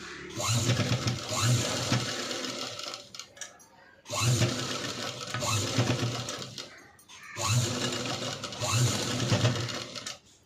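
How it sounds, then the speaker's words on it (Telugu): A sewing machine stitches the neckline of a princess-cut blouse in three long runs of rapid, close whirring and thumping, each separated by a brief pause, with no talk. "ఇలా బ్యాక్ సైడ్ నుంచి స్టిచ్ చేసుకోవాలి."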